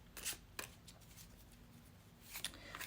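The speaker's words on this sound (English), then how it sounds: "Now let's get into our next deck and shuffle with intention." A deck of cards being shuffled, with quick riffling bursts at the start and again near the end, faint and close with a quiet pause in between.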